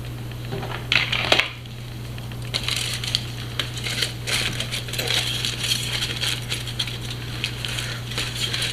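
Aluminium hair colouring foil being folded in half in a home kitchen, giving close crinkling and crushing rustles in short bursts, with a sharp crackle early on and lighter scattered crinkles after, over a steady low hum.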